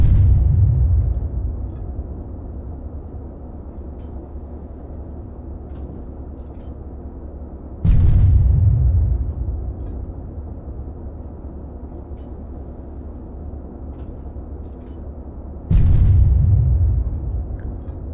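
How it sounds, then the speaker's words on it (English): Three heavy booms from an ArmA 3 tank main gun, each a loud low-frequency blast with a long rumbling decay, spaced roughly eight seconds apart over a steady engine drone; no talking. "adjust the zeroing to 600 for the tank gun. And fire."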